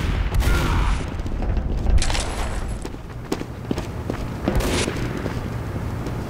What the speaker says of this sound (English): Or should I say heavy weapons fire?